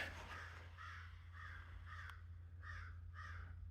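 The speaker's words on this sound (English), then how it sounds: "A crow fight." Crows caw and squabble outdoors, a string of about six harsh, evenly spaced caws from some distance, fairly faint over a steady low hum.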